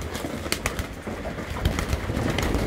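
Young pigeons cooing close by in a loft during training, soft murmuring calls repeating through steady background noise with a few sharper clicks and flutters.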